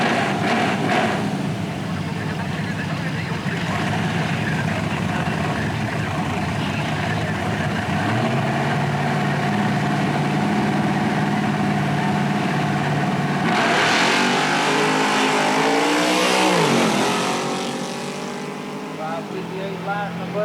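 At Centerville Dragway in 2000, drag racing cars rumble at idle, then launch with a loud surge of revving engines that rises and fades, while an announcer's voice carries over the track noise.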